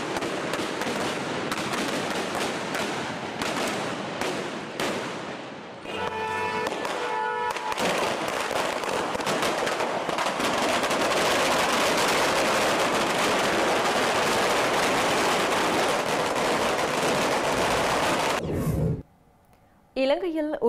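Firecrackers set off by Sri Lankan government supporters celebrating, a long dense crackle of rapid bangs with sharp bursts, loud and sustained for most of the span before cutting off briefly near the end.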